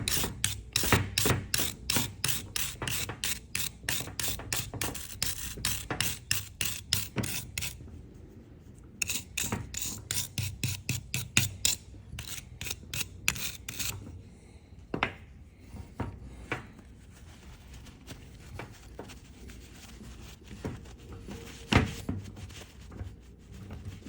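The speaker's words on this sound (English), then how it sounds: "I'm gonna hit it with the wire brush a little bit." A wire brush scrubs grease off a pedal drive part, giving rapid, rhythmic rasping strokes in close, loud bursts with short pauses between runs.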